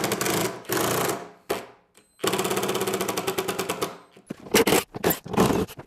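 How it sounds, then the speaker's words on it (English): A power driver unscrews screws from a flight simulator's frame, several loud buzzing bursts of varying length with short pauses between them and rapid rattling pulses in the longer runs, heard up close. "Now it's time to unscrew this and screw the new one in its place."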